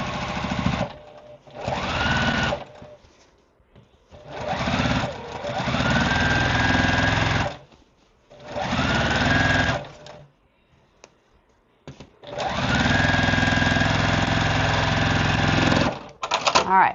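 A sewing machine stitches quilt pieces together in several loud, close runs of steady mechanical whirring, each lasting a few seconds and separated by short quiet pauses.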